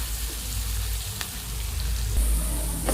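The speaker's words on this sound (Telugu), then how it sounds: "ఇవి చాలా దోరగా వేగేలాగా వేయించుకుందాము." Onions frying in a pan with cumin seeds while making a tindora onion masala, giving a steady close sizzle throughout with a brief stir toward the end.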